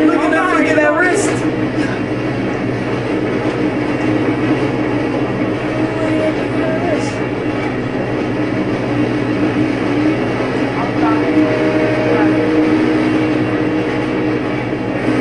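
A train in the motocross video game MX vs ATV rumbles steadily under game effects while several players talk and shout over it.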